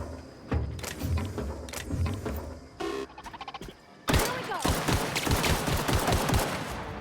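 Gunfire in the video game The Outer Worlds: a few scattered shots, then a short stuttering burst, followed by a dense rapid volley of loud close shots over the rest of the clip.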